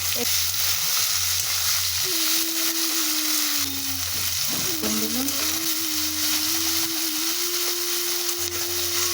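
Onion, ginger, green chili and garlic sizzle steadily in a hot pan for an egg curry, a continuous frying hiss with occasional stirring scrapes, close and fairly loud, with no talking.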